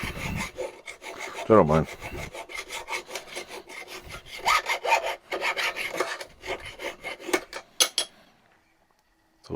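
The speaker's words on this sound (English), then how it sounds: "So it's all hand deburring." A hand file deburrs small metal pieces of a Freddy Krueger claw glove, with rapid, rhythmic rasping strokes close up, a brief spoken remark, then the strokes stop near the end.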